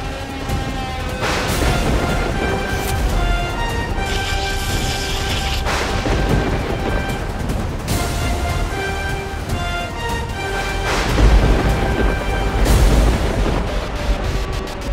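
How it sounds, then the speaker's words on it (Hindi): Thunder rumbles in a Hindi fantasy TV drama, with several deep booming crashes rolling under a continuous music score and swelling loudest toward the end. "जब भी वो लोग मुसीबत में होते हैं तो बादल की गरज से मुझे इमरजेंसी मैसेज भेजते हैं"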